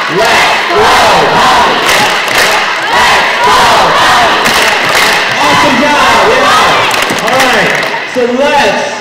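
A high school pep rally crowd before sectionals chanting in unison and clapping twice after each chant, loud and repeated in a steady rhythm across a large gym-like space, voices dominant throughout.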